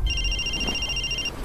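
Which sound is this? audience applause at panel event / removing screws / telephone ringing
telephone ringing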